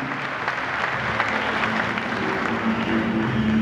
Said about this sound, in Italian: la figlia di Armando, facciamo un fortissimo applauso